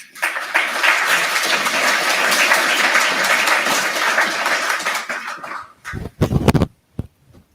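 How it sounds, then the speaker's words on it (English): Audience applause at an evening library program, a dense sustained round of clapping from a large crowd lasting several seconds before tapering off into a few scattered claps and a cough or two. "Please give her a round of applause."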